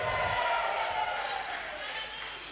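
A church congregation at a Christmas celebration claps for a singer after his song, a steady wash of applause and crowd noise at moderate level that tapers slightly toward the end.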